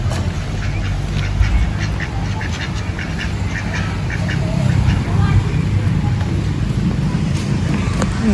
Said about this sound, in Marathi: हे बघा बदक बदक